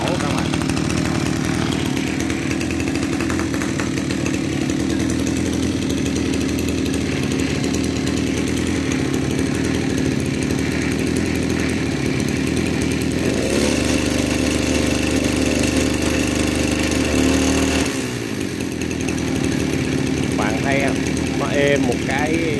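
A Kioritz SRE235 23cc brush cutter engine runs loud and continuous after a pull start, with a steady idle and a brief rev change, while someone talks over it.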